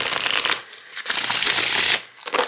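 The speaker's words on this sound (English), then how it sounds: "this is the deck I was talking about that has like the most amazing shuffle" Riffle shuffles of a tarot deck printed on linen cardstock, giving two bursts of crisp fluttering card snaps with a short pause between, close and loud.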